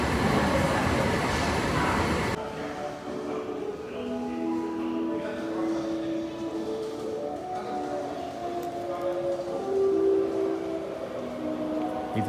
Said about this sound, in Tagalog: Itong MRT.